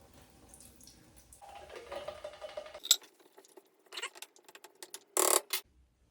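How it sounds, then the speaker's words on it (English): Liquid drained from an opened can of beans for chili trickles and splashes in a quiet kitchen, followed by a few clinks and a short, loud burst of running water near the end. "just gonna drain the can a little bit"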